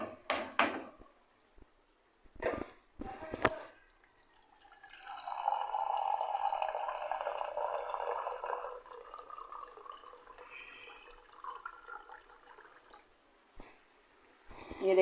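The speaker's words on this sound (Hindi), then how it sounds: "इसमें अब हम थोड़ा पानी ऐड कर रहे हैं।" Water is poured into a mutton karahi during cooking, giving a steady liquid pour and sizzle lasting several seconds, with brief clatters of a pot or utensil before and after.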